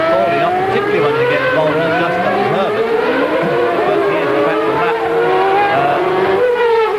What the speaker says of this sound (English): Here's some action on the Johnny Herbert trying to go down Fittipaldi